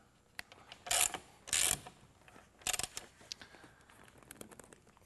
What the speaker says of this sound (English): using the supplied bolt, and it uses a 3/4-inch end wrench.